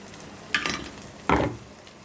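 Eggplant and coriander curry is stirred in a pan, with two distinct scraping stirs about three-quarters of a second apart over a soft background sizzle, close-up, with no talking.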